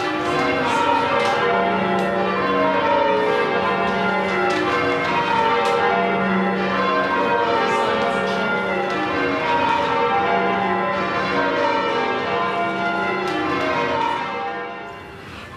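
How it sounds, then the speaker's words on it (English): Church bells ringing in the countryside, a continuous rich peal of overlapping tones that stays steady and moderately loud, then fades at the end. "There's no one around to hear the bells ring"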